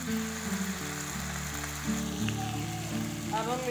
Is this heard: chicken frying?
yes